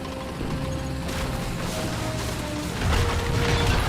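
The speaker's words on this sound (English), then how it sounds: "I'm crashing through the stupid concrete fences." Tank in the War Thunder video game crashing through concrete fences, a rumbling engine drone under scattered crunching smashes and clanks, growing louder toward the end, with no talk.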